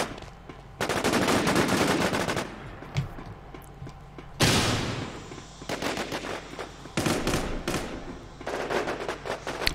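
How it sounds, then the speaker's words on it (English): Repeated bursts of automatic gunfire from the video game War Inc. Battlezone, loud and close, coming in several long sustained volleys separated by short gaps, with one sharp blast midway. "I shot him like 100 times."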